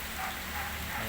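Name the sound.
rain falling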